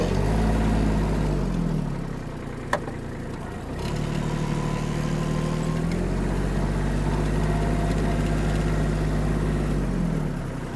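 A Japanese Kubota A-195 mini tractor's engine runs close and loud with a low, steady drone that dips briefly and then settles back. A single sharp knock is heard partway through.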